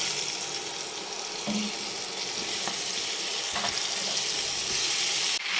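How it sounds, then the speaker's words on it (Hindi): Jackfruit pieces lowered one by one into hot oil in a kadhai, giving a steady, close, continuous frying sizzle with a few faint clinks, no talking. "तो अब उसको हम कढ़ाई में डालेंगे, एक एक करके पीसेस।"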